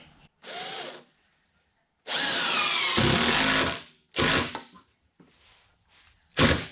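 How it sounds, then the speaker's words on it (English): Several bursts of a power drill driving into wood at close range, one long run of about two seconds among shorter spurts, with quiet pauses between. "Let's see if I can hold it and drill at the same time."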